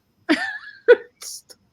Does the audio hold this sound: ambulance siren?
no